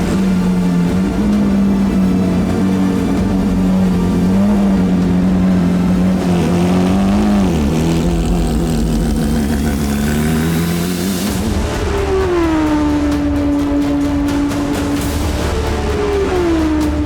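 Porsche 991 Cup race car heard from the passenger seat, its engine droning loudly and steadily throughout, with pitch sweeps as it revs up and down through gear changes and a rising surge near the end.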